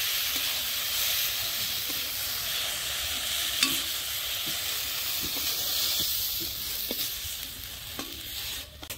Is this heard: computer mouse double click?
no